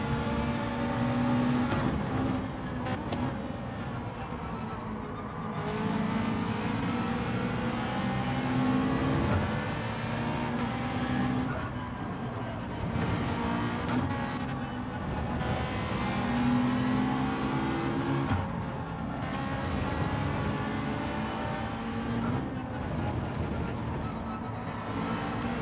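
Race cars, including a Supra, a Ferrari and a McLaren, accelerate off the start in Gran Turismo 7, their engines climbing and dropping through repeated upshifts in a steady, loud, overlapping drone.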